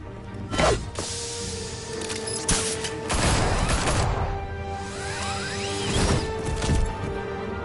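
Gunfire erupts in Batman: The Telltale Series on PS4, with dense bursts of shots and crashing impacts in several loud waves over a humming background.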